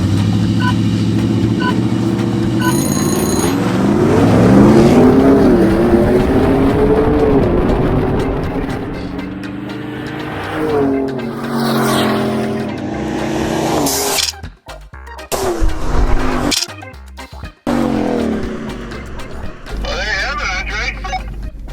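A supercharged Ram TRX pickup with 200,000 miles launches in a drag race. Its engine roars and climbs in pitch, then surges and cuts out in bursts, mostly under people talking.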